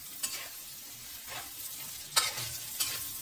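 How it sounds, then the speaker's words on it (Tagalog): Fresh alamang, tiny shrimp, frying with garlic until brown, a low steady sizzle broken by a few short scraping stirs of the spatula. "i-fry muna hanggang mag-brown siya"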